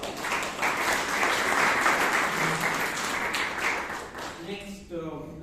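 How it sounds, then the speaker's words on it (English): Club members at a Toastmasters meeting give a sustained round of clapping that gradually thins, and a voice begins speaking as the applause fades at the close. "Give them a big round of applause."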